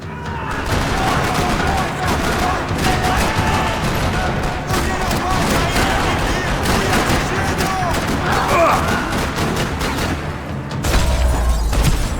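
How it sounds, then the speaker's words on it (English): Dense, sustained gunfire in Max Payne 3 in a parking lot: overlapping bursts and rapid shots crackle continuously and loudly, with heavy booms near the end. "Another parking lot rattling with gunfire."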